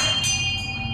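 A temple bell at Rewalsar lake in Mandi, Himachal Pradesh, keeps a steady ringing hum with a faint stroke partway through, heard alone against a low rumble.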